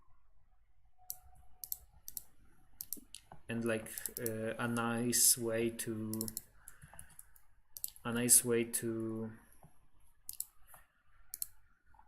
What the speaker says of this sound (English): I know that you can hear the mouse clicking.